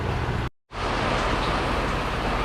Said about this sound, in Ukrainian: часом почалася злива конкретно